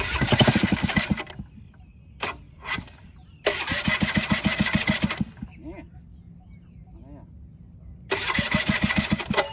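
Small aircraft engine repeatedly cranking and starting, with rapid chugging firing pulses that catch and rev for a few seconds, then cut out between attempts. It sounds loud and close, with brief human voices in the quieter gaps.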